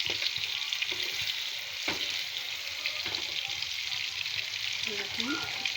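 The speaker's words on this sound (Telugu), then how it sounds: "మళ్ళీ 5 నిమిషాలు ఫ్రై అనిద్దాం" Fish fry in a pan with a constant, fairly loud oily sizzle and a few light clinks of turning, while a voice speaks briefly in the background.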